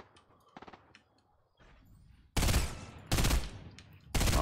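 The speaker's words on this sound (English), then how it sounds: "Who the fuck is shooting over here?" Gunfire in a shooter video game: three loud, sharp bursts of automatic fire separated by short pauses, preceded by fainter distant shots and quiet game sounds.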